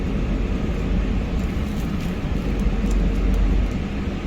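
A fully loaded Hyundai Xcient 540 truck pulling away under heavy throttle at low revs, heard as a steady, deep, loud engine drone and cabin rumble with no talk.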